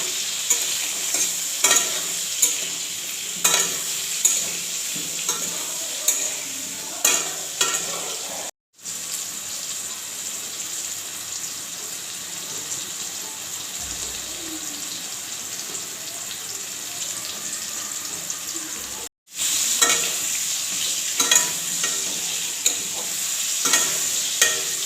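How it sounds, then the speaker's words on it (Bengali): Potato pieces sizzle and fry in hot oil for a chicken potato curry, a steady crackling hiss with periodic stirring scrapes, briefly cut out twice before resuming. "হালকা করে ভেজে নেব।"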